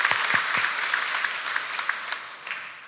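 A church congregation at a Sunday worship service applauds together, a sustained, moderately loud patter of many hands with a few sharper individual claps standing out.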